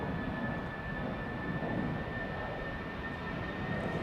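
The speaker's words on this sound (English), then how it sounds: "This is BA flight 431 to London Heathrow." A 22-year-old British Airways A320 departing Amsterdam Schiphol for London Heathrow, heard as a steady, distant jet engine roar with a faint high whine, no voices.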